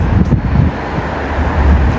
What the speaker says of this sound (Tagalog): medyo malakas ang hangin ngayon